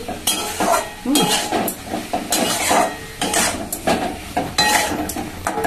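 Boiled potato and cauliflower being sautéed in a pan for prawn curry, with repeated scraping and stirring strokes, light sizzling and occasional clinks of the utensil against the pan, close and fairly loud.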